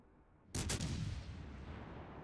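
A tank gun fires once in a video game, a sudden loud boom at about half a second whose blast rolls and decays slowly over the following two seconds, with no talking.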